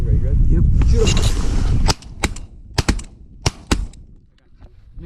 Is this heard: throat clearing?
no